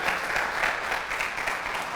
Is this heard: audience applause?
yes